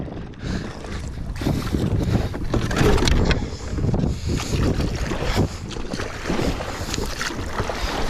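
A kayak is paddled on the sea with the swell running semi-downwind, giving close, gusty wind rush over splashing water and a continuous churning noise throughout.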